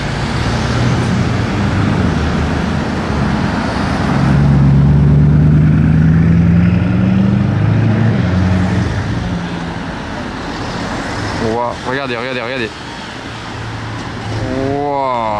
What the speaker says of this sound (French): Une Chiron Sport là, en plus légende du ciel.